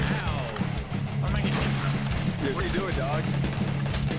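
Gunfire from guns in the video game Garry's Mod, a run of sharp loud shots and crashes over steady game noise and music, with talk throughout.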